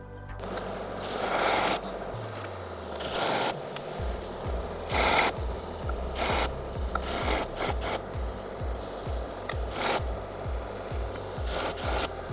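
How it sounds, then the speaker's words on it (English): A costly sashimi knife is drawn across a sharpening stone in repeated rasping strokes, a rhythmic gritty rubbing that stays close and clear, with short pauses between passes. "knife sharpening can be a little stressful"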